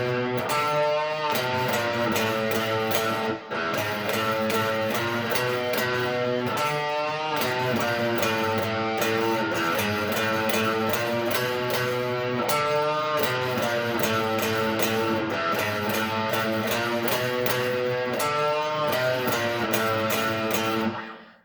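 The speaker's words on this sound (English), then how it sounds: "Then there's a little interlude riff." Electric guitar playing an interlude riff, a dense, loud, continuous run of sustained distorted notes with repeating phrases, alone without talk.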